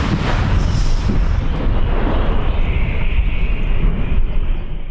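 Ukrainian artillery gun firing a shot at positions near Bakhmut: a loud, close, broadband blast and roar that fills the whole stretch without pause, with no voices.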